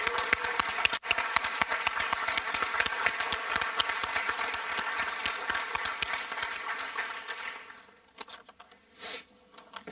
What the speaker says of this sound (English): Let's give a round of applause for these recipients.